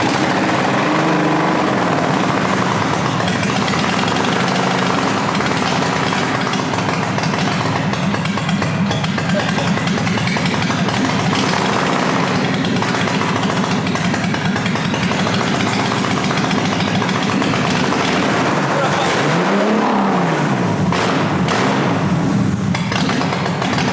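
A loud BMW E30 engine with a swapped S52 engine, started after years sitting, runs steadily throughout, rough and droning, with a brief rise and fall in pitch near the end as it revs.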